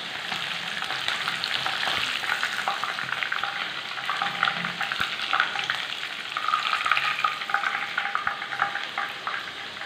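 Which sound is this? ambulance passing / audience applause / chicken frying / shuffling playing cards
chicken frying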